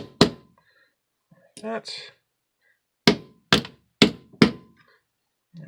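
Sharp taps seating Lionel toy train wheels onto their axles in a vise: one hit, a pause, then four evenly spaced knocks, close and loud, with a short spoken remark between them.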